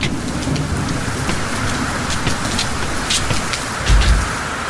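Heavy rain pours down steadily, hissing on surfaces with scattered drops striking close by and a low rumble near the end.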